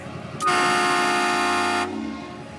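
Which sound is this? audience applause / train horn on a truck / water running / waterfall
train horn on a truck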